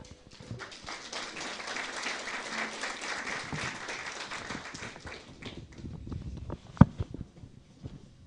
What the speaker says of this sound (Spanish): los vamos a recibir, por favor, con fuertes aplausos